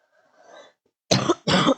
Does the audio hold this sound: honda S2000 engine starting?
no